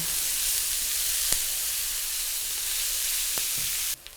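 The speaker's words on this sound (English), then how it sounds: "When you get a little olive oil in the pan and you get the onions in there" Onions fry in olive oil in a pan with a soft, even sizzle and occasional faint pops, steady throughout and cutting off abruptly near the end.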